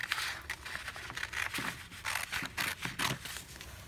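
Scissors snip through paper for an origami envelope, a close series of crisp cuts and rustles in irregular bursts, fairly quiet.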